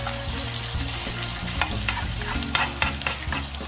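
An egg fries in a pan for a breakfast egg and cheese burger, a steady close sizzle broken by repeated scraping and stirring taps from a utensil.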